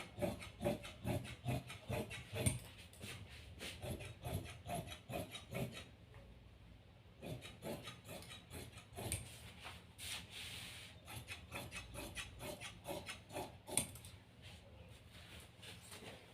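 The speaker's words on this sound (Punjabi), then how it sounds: "ਇਹਨੂੰ ਵੀ ਆਪਾਂ ਇੱਕ ਸਾਰ ਕੱਟ ਲੈਣਾ" Scissors cutting through plazo trouser fabric, a steady run of close, rhythmic rasping snips with brief pauses between strokes and no talk.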